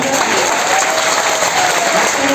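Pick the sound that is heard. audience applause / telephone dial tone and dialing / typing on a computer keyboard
audience applause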